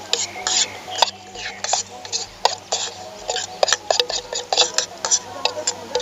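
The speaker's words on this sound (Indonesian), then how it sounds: "Aduk-aduk sebentar." Rapid scraping and clinking of a spoon stirring rice porridge in a pot on a mountain camp stove, with irregular taps against the metal sides, close by.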